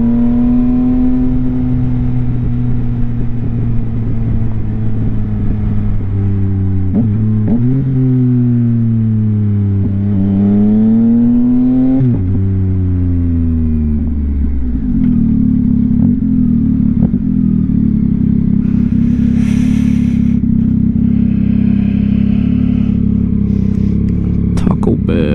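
A 2022 Yamaha XSR900 with a Kelpi Custom Moto shorty exhaust, heard close up as a loud deep idle that rises and falls through several revs, then settles into a heavier, rougher rumble under faint wind noise.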